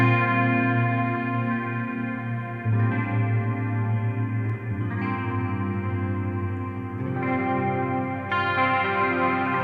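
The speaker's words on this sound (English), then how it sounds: "Quick clean with a big sweeping reverb and some chorus." Clean electric guitar chords through a Line 6 HX Stomp, ringing out with a lush, wide reverb and a shimmering chorus wobble, sustained and layered.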